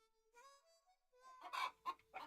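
Chickens near a farm chicken coop give a few quiet, drawn-out clucks, then a short run of louder, harsher squawks, heard close by in otherwise quiet surroundings.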